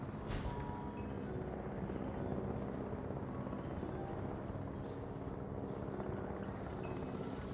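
A helicopter in the dinosaur park game Jurassic World Evolution drones steadily throughout, a dense, continuous rotor and engine rumble that holds an even loudness with no voices on top.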